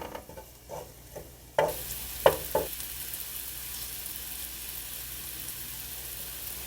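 Garlic in olive oil over medium-low heat gives a few soft clinks of stirring, then breaks into a sudden, steady sizzle that carries on evenly with occasional spoon knocks near the start.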